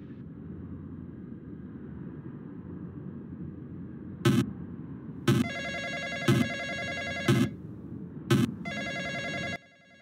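A telephone rings in a Roblox FNAF-style animatronic-building game: five sharp, evenly spaced bell rings over a steady hum of background game noise. Everything cuts to near silence at the end.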